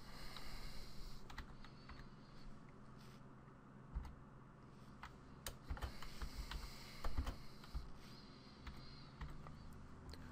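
Faint, irregular key taps come from someone typing a code on a computer keyboard, sounding as soft clicks in quick clusters over low room noise.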